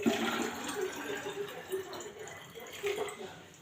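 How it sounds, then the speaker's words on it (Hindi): Drinking water bottle being filled from a running tap at home, a continuous splashing, gurgling stream close by with slight shifts in pitch as the bottle fills. "धो ली थी बॉटल, लेकिन अब भर रही हूँ।"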